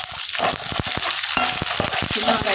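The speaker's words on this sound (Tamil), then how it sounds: "சின்ன வெங்காயத்தை போட்டு நல்லா ஒரு வணக்கிட்டுங்க" Shallots hissing in hot oil with mustard seeds and dry red chilies for chicken kaattu varuval, a loud close sizzle broken by quick clattering stirs and scrapes of the spatula.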